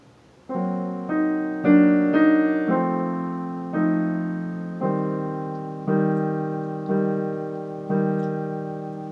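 Keyboard playing a line of Khachaturian's Andantino, nine sustained notes in an even, slow rhythm, each struck clearly and decaying, played alone.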